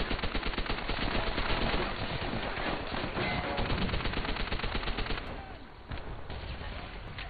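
Dense, continuous automatic gunfire from a Call of Duty: World at War match, with rapid bursts overlapping loudly for about five seconds before a brief lull and then more shots, mixed with battlefield noise.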